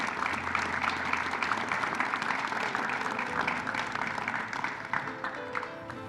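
An audience applauds a sports hall of fame honoree at an induction ceremony, a sustained, moderately faint roll of clapping filling the room and slowly tapering off.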